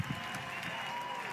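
Crowd at a college baseball regionals elimination game between Maryland and Wake Forest cheering and clapping for a catch by the center fielder, a steady distant roar and patter of applause with a commentator talking over it.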